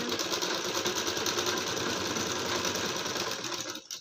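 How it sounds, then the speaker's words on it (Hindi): A sewing machine runs steadily, stitching along the edges of fabric for a round neckline, with a fast, even mechanical chatter that stops abruptly at the end. "ये देखिए इस तरीके से पहले हमें किनारे किनारे सिलाई लगाना है"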